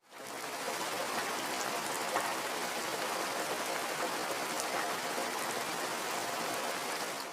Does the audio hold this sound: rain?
yes